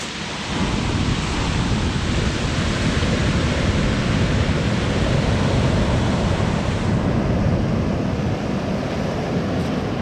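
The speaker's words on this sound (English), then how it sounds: "The sound of the rocks slapping together as the tide pulls them back is interesting." Ocean tide drags loose rocks back down a shore, giving a continuous, loud roaring wash with dense clattering texture throughout and no speech.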